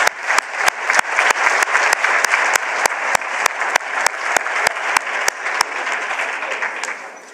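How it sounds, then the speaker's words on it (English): Audience applause at a university address, steady close clapping with sharp, regular loud claps standing out near the microphone, holding strong before tapering off at the end. "Ladies and gentlemen, can we have another round of applause for the VC?"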